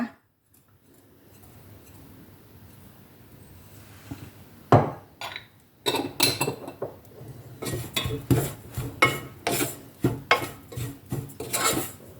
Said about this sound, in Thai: เราก็จะใส่พริกผงพริกป่นไปนิดนึงนะคั่วให้หอมนะคะ